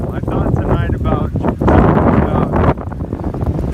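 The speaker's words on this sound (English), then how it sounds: "it is super windy out here" Strong gusting wind batters an outdoor microphone with loud, continuous low rumble and buffeting that swells and dips through the clip, while a person talks underneath it.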